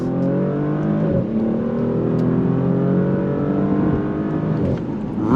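A 2024 Porsche Panamera with a twin-turbo V6 accelerates hard in manual shift mode. The engine note climbs steadily and loudly, with a clear gear change near the start and another near the end, heard from inside the car.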